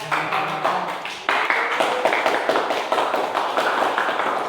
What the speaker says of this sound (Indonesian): Mari kita beri tepuk tangan aplaus kepada kelompok.